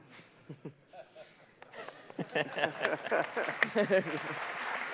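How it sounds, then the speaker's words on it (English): Applause from an audience at a Jurassic World content reveal event builds up and grows louder, a dense patter of clapping with some voices mixed in. "Round of applause for a movie reference."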